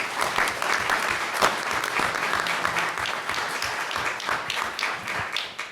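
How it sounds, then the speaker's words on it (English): An audience at a history conference applauds steadily, dense clapping sustained at an even level throughout with no talk. "Let's give him a round of applause."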